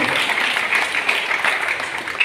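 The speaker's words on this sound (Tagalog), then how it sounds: "yung nakakarinig, pwede pumalakpak ng malakas sa Panginoon" A church congregation claps loudly in praise, a brief, dense wash of many hands applauding at once without a break.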